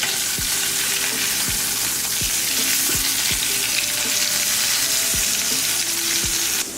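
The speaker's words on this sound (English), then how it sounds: "Now we're gonna flip the steak to the other side." A flipped steak sizzles loudly in a hot pan, a dense continuous frying hiss with faint low ticks and pops underneath, close and steady with no talking.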